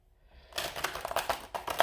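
Stiff tarot cards are shuffled by hand, a short run of quiet crisp riffling flicks and slaps starting after a brief pause, fairly close and faint.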